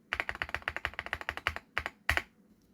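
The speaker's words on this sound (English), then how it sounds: "they all sound really good, especially the thonk of the spacebar" Rapid typing on a DrunkDeer A75 Hall effect mechanical keyboard with deep, muted keystrokes, ending in a few separated heavier spacebar thonks, close and clear with no talking.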